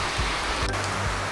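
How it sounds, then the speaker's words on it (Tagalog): Heavy rain pours down in a dense, steady hiss, loud and close, with no voices over it. "Napakalakas ng ulan."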